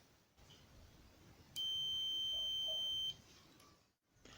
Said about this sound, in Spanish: cuando la resistencia medida es baja también suena un bip